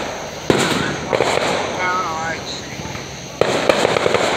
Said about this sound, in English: the nice part is I don't have to go very far for these fireworks